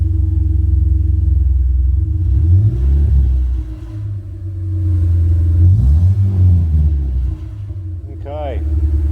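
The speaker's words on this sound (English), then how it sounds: "We'll give it a bit of a rev and see how we go." A hot rod bubble car's engine rumbles loudly at idle and is revved twice, rising and falling in pitch with deep throaty exhaust, while someone speaks briefly near the end.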